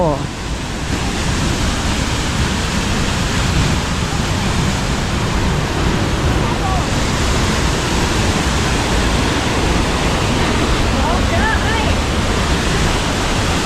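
A large jungle waterfall pours hard between rock channels, a steady, loud, broadband roar that fills the scene without pause from start to finish.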